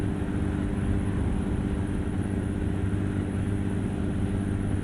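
Steady distant aeroplane drone in American Truck Simulator, a continuous low engine hum layered under constant truck road rumble, with no talk.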